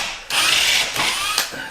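Power drill boring into a hardwood window sill in an old house, a loud whirring burst that starts abruptly and holds for over a second with brief surges as the bit bites, no voices.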